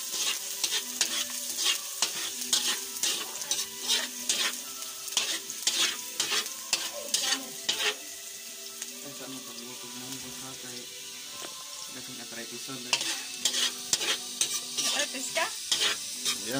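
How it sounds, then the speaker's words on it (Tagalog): Garlic sizzles in hot oil in a pan, with a steady bright crackle and repeated scrape of a spatula stirring, fairly close and continuous throughout. "Unahin na natin tong garlic natin. Ayan, masyadong mausok."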